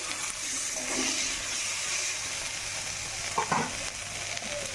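Chopped tomato and slit green chillies frying in a pan, a soft continuous sizzle with a few spatula stirs and clinks near the end, fairly quiet and with no talking.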